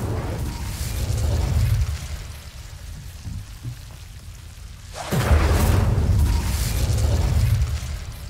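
The Incendio fire spell cast in the video game Hogwarts Legacy, a broad roaring whoosh of flame that swells sharply midway and holds loud and full to the end, with no talk.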